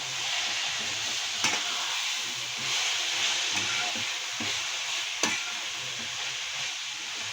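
Fenugreek leaves fry in a pan and are stirred with a utensil. A steady sizzle runs throughout, with soft scraping strokes and two sharp clicks against the pan.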